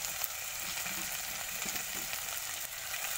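Rohu fish pieces frying in a pan just after being flipped, a dense, steady crackling sizzle throughout, close and even with no talk.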